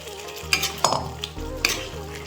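Chicken frying with ginger, garlic and onion paste in a pan over medium flame, a soft sizzle punctuated by a few clacking stirs of a spoon against the pot, close and moderately loud.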